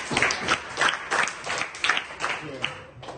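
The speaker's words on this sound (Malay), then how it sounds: "tepuk tangan untuk Ahmad" A classroom of students claps for a classmate during a micro-teaching lesson, a brisk uneven burst of hands with sharp peaks, moderately loud and close throughout.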